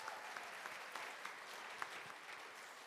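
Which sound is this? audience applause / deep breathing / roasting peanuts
audience applause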